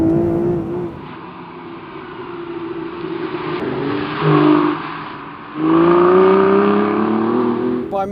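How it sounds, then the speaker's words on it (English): A sports car engine revs hard through a loud exhaust, holding a steady drone, then surging in two throttle blips near the middle and toward the end, close and with no talking. "it sharpens up the throttle response and it makes the exhausts that much louder"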